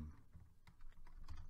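Keys clatter on a computer keyboard in irregular bursts of quiet clicks and taps, fairly close and alone with no voices over them.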